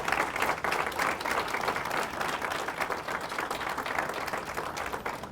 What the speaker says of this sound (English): So how about a big round of applause for you all?